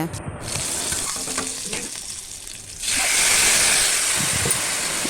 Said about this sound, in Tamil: வாழைக்காய் அதையுமே வறுத்து எடுத்துடலாங்க